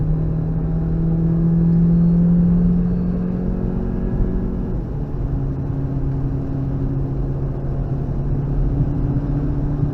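A car accelerating at full throttle on the wet Nürburgring Nordschleife, heard from onboard as a loud, steady engine drone whose pitch climbs and then drops at a gear change before rising again.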